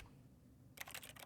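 Computer keyboard keys clicking during a gaming session playing game demos; a quiet stretch gives way to a short burst of quick, close typing clicks in an uneven rhythm.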